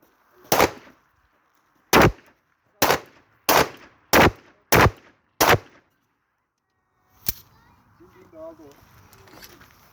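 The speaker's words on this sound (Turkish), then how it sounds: "Biraz seri atış gibi üçünü bir deneyim diye attım." Three pistols, a Browning 7.65, a Yavuz 9 Pro and a Sarsılmaz Kılınç 2000 Mega 9 mm, fire seven loud sharp shots in quick succession outdoors, then one more shot follows after a pause, with birds and faint voices afterward.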